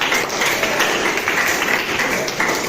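Applause from an audience in a classroom supervision session, a dense steady patter of clapping that fills the whole moment at close range with no pauses.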